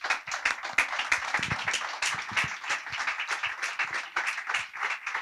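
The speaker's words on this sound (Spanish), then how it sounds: "se ha suscitado el necesario aplauso" Audience applause at a talk on inequality and political management; a smaller crowd claps with distinct, closely spaced individual claps that keep a lively, uneven rhythm for several seconds, fairly close, with no speech.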